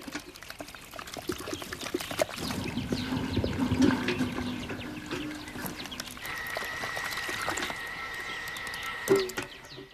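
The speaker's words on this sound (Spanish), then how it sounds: "Ya podían empezar a echar la mezcla" A liquid mixture is poured into a plaster-covered mound built over an excavated nest base, giving a steady pouring and splashing wash that grows fuller midway, with scattered knocks and a brief higher tone near the end.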